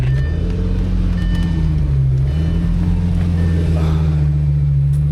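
A 2007 Lamborghini Gallardo engine drones loud and close in a steady, deep rumble whose pitch dips briefly, then holds constant throughout.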